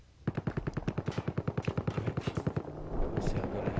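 Rapid, evenly spaced gunfire bursts out in a long, steady string of about twenty close, heavy reports in the Battlefield Hardline video game, fading into rumbling noise at the end.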